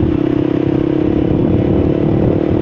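A 250cc four-stroke single-cylinder motorcycle engine runs steadily under throttle while riding, a close, continuous low drone with faint rattling clatter and no speech.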